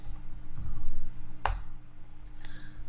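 A few soft keystrokes on a computer keyboard while entering router commands, faint and sparse, with one sharper click in the middle.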